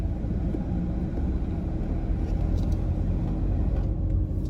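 A car driving through the town centre of Cromer, heard from inside as a steady low engine and road rumble, moderately loud and continuous with no talking.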